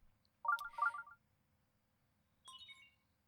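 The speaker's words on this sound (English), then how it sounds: "Sheikah sensor now operational." Sheikah sensor activation chime from Zelda: Breath of the Wild: a bright warbling electronic jingle, then after a pause a second, softer chiming tone, clear over near silence.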